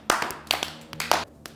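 A few people clap out of sync, a short scattered burst of about six uneven hand claps at close range.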